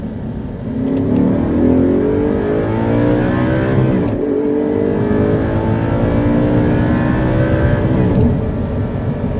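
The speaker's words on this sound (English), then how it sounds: "let's check out the acceleration" An original Audi R8 supercar accelerates hard and loud, its engine note climbing through several gear pulls with brief dips between shifts, close and dominant with no talk.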